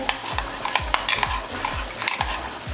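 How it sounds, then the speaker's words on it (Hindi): A spoon stirs mutton nihari in a pot over the stove while flour paste is poured in, giving steady scraping strokes with soft bubbling and sizzling underneath, close and alone. "एक हाथ से चम्मच पकड़ेंगे और दूसरे हाथ से पेस्ट डालते रहेंगे। चम्मच को हिलाते रहेंगे।"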